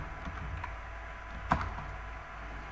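Quiet keyboard typing in a Python coding session, a few soft scattered keystrokes with one sharper clack near the middle, faint against room hiss and without speech.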